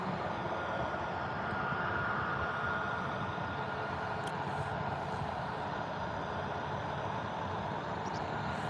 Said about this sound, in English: Ryanair 737 MAX 8-200 on its final from India